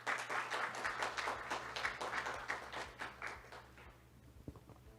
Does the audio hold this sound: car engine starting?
no